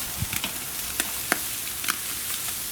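Marinated Hawaiian BBQ chicken sizzling on a grill, a steady close hiss and crackle with a few sharp pops and spits, no voices.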